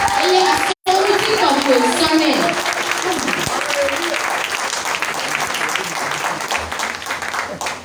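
A church congregation applauding during a morning worship service, sustained dense clapping filling the room from start to finish after a brief cut, with voices mixed in underneath.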